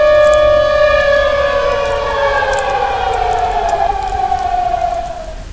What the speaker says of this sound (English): the siren went as well